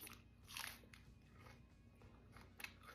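Faint, close crunching of crisp lettuce leaves being bitten or handled, a few brittle snaps over a low background hum.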